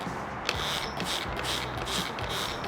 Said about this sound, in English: So I'm going to spray until I start seeing water dripping